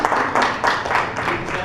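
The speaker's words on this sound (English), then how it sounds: "We clap at that." Audience at a town hall meeting clapping in a steady, dense burst of applause, fairly close and loud, with no talk over it.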